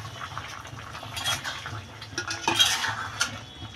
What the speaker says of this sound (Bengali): এবার আমি ডিমটা দিয়ে দেবো।